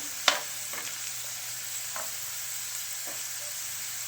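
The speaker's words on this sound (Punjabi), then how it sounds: "ਤੇ 2 ਮਿੰਟ ਭੁੰਨਣ ਤੋਂ ਬਾਅਦ ਇਹ ਵੇਖੋ ਜੀ ਲਸਣ ਕਾਫੀ ਹੱਦ ਤੱਕ ਪੱਕ ਗਈ ਹੈਗੀ ਭੁੰਨੀ ਗਈ ਹੈ ਲਸਣ" Garlic cloves roasting in a pan for a quick garlic pickle, with a few scattered scraping stir strokes over a faint steady sizzle, one sharper clack near the start, no talking.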